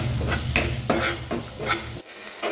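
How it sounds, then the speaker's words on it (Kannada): White sesame seeds fry in oil in a pan, a steady close sizzle broken by a few sharp stirring scrapes, with the sizzle cutting off near the end. "1-2 ಟೀ ಸ್ಪೂನ್ ಆಗೋಷ್ಟು ಬಿಳಿ ಎಳ್ಳ ಎಣ್ಣೆಯಲ್ಲಿ ಚೆನ್ನಾಗಿ ಫ್ರೈ ಮಾಡಬೇಕು."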